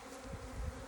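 Honey bees buzz in a small, gentle colony inside an open beehive during an inspection, a brief, quiet, steady insect drone with no talking.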